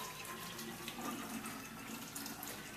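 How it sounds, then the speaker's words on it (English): Cold-pressed juice pours in a steady, continuous liquid stream into a cold container, a soft, even splashing trickle with no talking. "And you take the juice and you pour it into this cold container."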